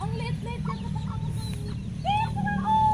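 Small chicken clucking close by in short, repeated bursts, mixed with a low rumble of background noise.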